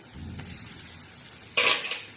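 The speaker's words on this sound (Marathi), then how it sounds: "आता हा मसाला छान असा आपण परतून घेणार आहे" Ground spice paste frying and being stirred with small bitter gourds in a pan, a steady soft sizzle with a sharp burst of hissing and scraping near the end.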